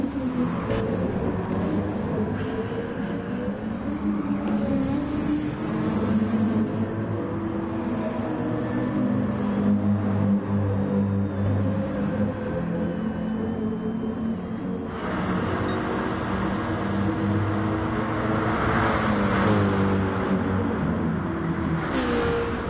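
Race car engines at Circuit de Barcelona-Catalunya during a Super Group 3 round, including a McLaren 720, drone and whine continuously with shifting pitch as the cars accelerate and pass. A brighter surge comes in midway through.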